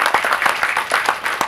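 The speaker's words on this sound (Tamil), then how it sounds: "உங்களோட கரகோஷங்களோடு" Applause from the audience at the audio launch of the Tamil film SIR, a dense patter of many hands clapping steadily and fairly loud.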